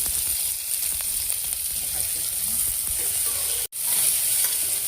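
Onion and cumin seeds frying in hot oil for an onion and lentil curry, a steady dense sizzle that holds throughout, broken by one very brief dropout near the end.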